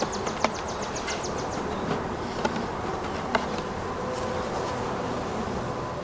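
A honeybee swarm buzzing around a wooden hive box, a steady low drone of many wings with a few clicks and knocks near the start.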